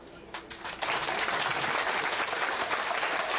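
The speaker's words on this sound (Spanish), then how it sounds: "Fuerte los aplausos, por favor" Audience applause at a road handover ceremony in Ecuador, a dense, steady burst of clapping that swells after a softer start and holds evenly at moderate loudness.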